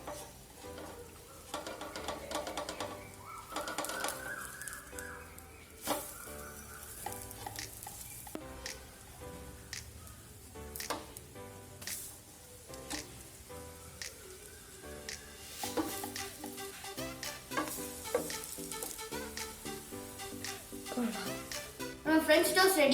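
French toast fries in a pan with a steady crackling sizzle, broken by repeated close clinks and scrapes of a utensil as the slices are moved and turned, with a voice talking over it at times.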